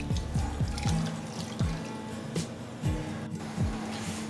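A cup of water is poured into a pan holding tangerine peel and cloves, giving a close, bubbling trickle with repeated gulping drops over a few seconds and no speech.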